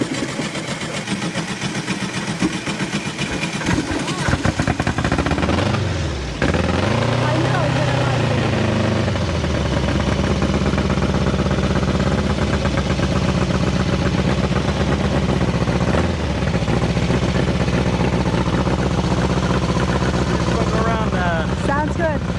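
A Volkswagen dune buggy with a 1660 air-cooled engine idles and revs steadily and loudly nearby at a car meet, the pitch rising and falling once as the throttle opens, with people talking over it.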